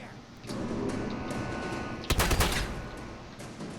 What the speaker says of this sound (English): I have a shotgun.